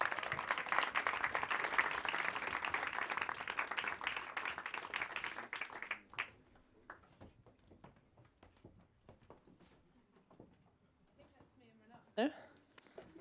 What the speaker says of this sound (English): Another last round of applause.